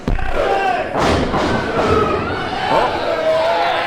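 Repeated heavy thuds and slaps of wrestling chest chops and punches landing, several hits in quick succession over a noisy crowd with voices talking and shouting.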